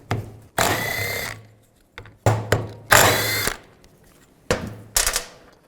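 A 10mm socket on a power driver backs out the four bolts of a 2005-15 Nissan Xterra radiator fan clutch on a workbench, in five loud, separate whirring bursts with quiet gaps between them and no talking.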